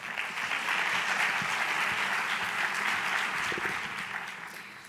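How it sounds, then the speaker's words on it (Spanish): A conference audience gives a sustained, loud round of applause at an inaugural education lecture. The dense clapping holds steady for several seconds, then starts to fade. "rebem amb un fort aplaudiment"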